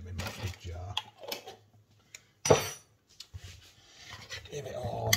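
Beef stew packet mix is stirred in a bowl, with a spoon scraping and clinking against the sides and one sharper knock, while someone talks over much of it.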